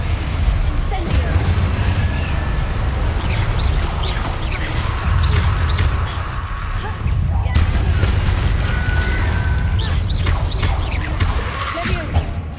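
A fire spell is cast during combat in Hogwarts Legacy on PS5, amid a loud, continuous rumble of battle effects with repeated booming bursts and crackling impacts throughout.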